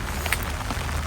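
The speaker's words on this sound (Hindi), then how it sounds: "बारिश अभी भी नहीं रुकी है दोस्तों।" Steady rain falling in a forest near Kufri in Himachal Pradesh, a continuous dense hiss of drops on leaves and ground with a few slightly louder close patters, constant in level and without speech.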